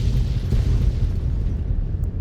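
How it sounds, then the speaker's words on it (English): Explosions rumble in the video game Fallout 3, a heavy, low booming roar that stays dense and loud throughout the short burst before tapering slightly. "Lots of explosions."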